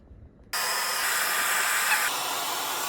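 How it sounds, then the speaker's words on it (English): A hair dryer switches on abruptly and blows with a steady, loud whooshing hiss, slightly easing in tone near the end. "And I love our hair dryer."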